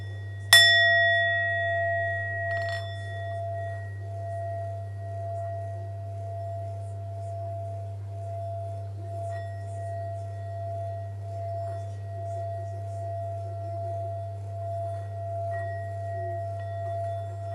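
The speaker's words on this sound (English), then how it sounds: "I'm going to open up with the ringing bowl" A ringing bowl is struck once, giving a bright attack and then a long, steady sustained tone that hums on alone with a faint shimmer over a low drone, slowly fading over many seconds.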